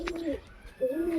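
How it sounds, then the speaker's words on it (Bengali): Pigeons in a pigeon loft cooing close by, two low throaty coos separated by a short pause, with no talk over them. "তো চলে এলাম আমরা পায়রার লফটে।"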